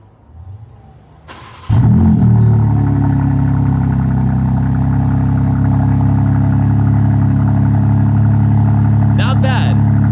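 A BMW G80 M3 engine cranks on a cold start and catches with a loud bark, then settles into a deep, steady, slightly lumpy idle that runs on at a constant level.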